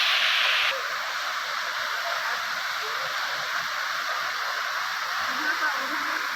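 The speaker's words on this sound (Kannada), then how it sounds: "ಬಹಳ ಎತ್ತರದಿಂದ ಧುಮುಕುವಂಥ ಈ ಒಂದು ಜಲಪಾತ ನೋಡಲಿಕ್ಕೆ ಅಷ್ಟೇ ಸುಂದರವಾಗಿದೆ" Tusharagiri waterfall plunging from a great height, a steady broadband rush of falling water heard from nearby, continuous and even throughout.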